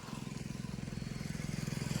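Motorcycle engine running steadily while riding on a road, a low rhythmic thrum that builds slightly in loudness, heard close throughout with no talk.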